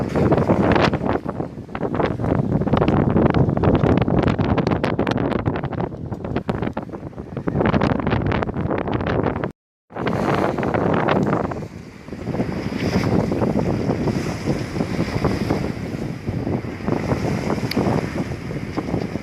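Loud, steady wind buffets the microphone aboard a sailboat beating against the wind, waves and current on an Atlantic passage from Cabo Verde to Salvador de Bahia, with rushing water beneath and one brief dropout midway.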